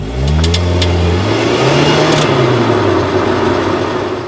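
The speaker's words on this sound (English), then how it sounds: "that's the sound of your power plant frame flexing." Mazda drivetrain recorded by a microphone at the differential, with the power plant frame flexing: a loud, steady engine drone with a rising and falling whine, a few faint clicks early on, and no talking.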